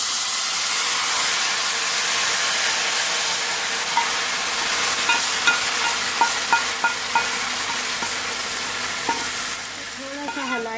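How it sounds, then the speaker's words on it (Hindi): Hot tadka tempering poured slowly into kadhi curry for a pakora dish, giving a steady loud sizzle and hiss with a few sharp crackles and stirring clinks near the end. "ये हमारा तड़का तैयार हो गया है। अब हम इसे कड़ी में डाल रहे हैं"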